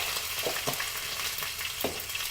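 Cumin seeds sizzle in hot oil with a loud, continuous crackle and a few soft clinks of a spoon against the pan.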